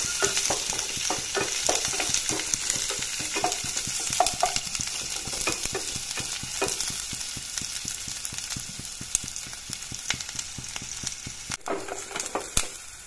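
Onions and green chilies sizzle in a hot pan for egg curry, a bright continuous frying hiss broken by frequent spatula scrapes and knocks against the pan, close and with no talk.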